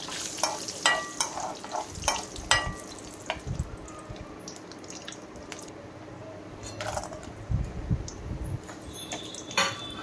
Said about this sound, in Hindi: एबे किशमिश की भी टिके भाजी देबा।